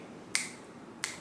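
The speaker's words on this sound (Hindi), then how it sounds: "चुटकी बजाते हुए" Two crisp, sharp finger snaps about 0.7 seconds apart, close and clear against a quiet background.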